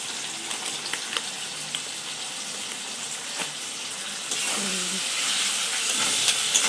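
Onions fry in a pan, giving a continuous sizzle and hiss with scattered spits, which jumps louder partway through as more sizzling starts.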